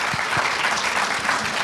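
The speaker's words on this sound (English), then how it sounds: "Let's give them a round of applause, please." Audience applause at a startup-scene panel debate in Hong Kong, a dense, steady burst of many hands clapping close by, with no voices over it.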